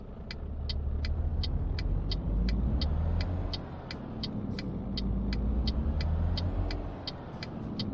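A truck engine rumbling on the road in Euro Truck Simulator 2, a low steady drone that rises and falls as it pulls away, with a regular ticking like an indicator clicking evenly over it, and no voices.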